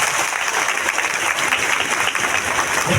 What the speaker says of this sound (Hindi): आप सभी के लिए एक जोरदार ताली।